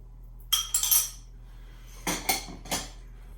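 A spoon clinks and scrapes against a bowl while a cheesecake crumb base is stirred together with melted butter, in two short bursts of quick metallic taps separated by a quiet pause.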